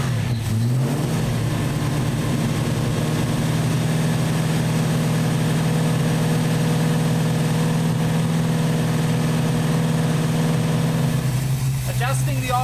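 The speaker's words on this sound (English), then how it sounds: "So we'll fire it up, get it up to temp, and then we'll adjust it" A ute engine with an Edelbrock carburettor turns over and settles into a steady, loud idle that holds for about twelve seconds before cutting off near the end, with low mechanical rumble throughout.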